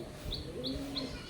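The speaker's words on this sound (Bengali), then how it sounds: "high flying Madras Payra" Madras high-flying pigeons call in a short series of three repeated chirping notes over a steady low background murmur, fairly close by.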